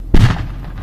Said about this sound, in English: and then an explosion.